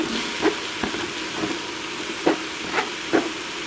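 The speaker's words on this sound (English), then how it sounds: "now I'll add my green zucchini" Green zucchini sautés in an electric pressure cooker with a soft continuous sizzle, broken by several faint stirring clinks and taps spaced irregularly through the few seconds.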